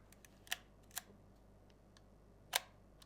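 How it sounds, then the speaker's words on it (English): A Leica M6 film camera shutter fires in a quiet room, giving a few crisp, sharp mechanical clicks close by, with the loudest snap near the end and no talking. "There you go, the first shutter click."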